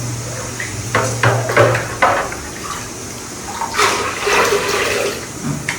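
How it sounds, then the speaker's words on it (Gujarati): Water splashes and trickles in short bursts as it is poured from a small metal cup-like vessel, close by, with light clinks of metal vessels and no talking. "આ પવાલાથી હવે આપણે ખાલી કરશું પાણી"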